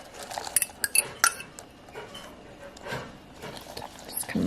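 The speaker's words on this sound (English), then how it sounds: "Just gonna mix that all together." A utensil mixes scallions into kimchi pancake batter with shrimp and tofu, giving several sharp clinks against the bowl and soft wet stirring sounds, close by, while a person talks over it.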